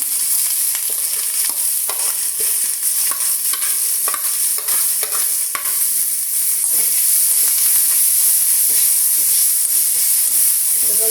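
Freshly ground paste is stirred and fried in a pan, a steady close sizzle and hiss running throughout, broken by repeated scraping strokes of the spoon against the pan.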